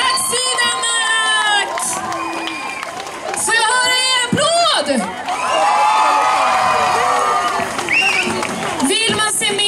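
An outdoor concert crowd on a town square claps, cheers and whoops after a live performance, with loud shouts and high voices rising over the applause in bursts.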